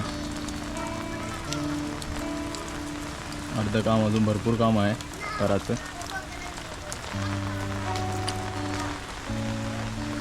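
Heavy monsoon rain pours down in Sakharpa in the Konkan near the swollen Kajali river, a constant hiss beneath someone talking and some tonal background sound.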